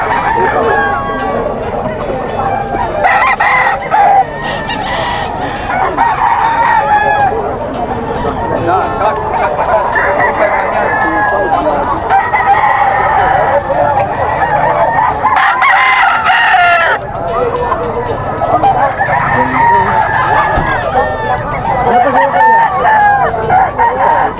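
Many roosters crowing continuously at a crowded market in Bocaue, overlapping near and far amid clucking chickens, loud throughout with a voice occasionally under the din.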